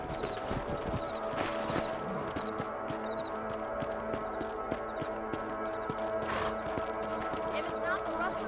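Horse hooves clip-clop at a steady walking rhythm in Red Dead Redemption, laid over a continuous tonal background with occasional distant shots.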